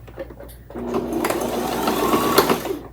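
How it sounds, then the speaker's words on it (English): A sewing machine stitches a straight knotting stitch on a rope basket, starting after a quiet moment and then running in a fast, steady mechanical whir, close and moderately loud. "I'm going to do a little bit of a straight knotting stitch here."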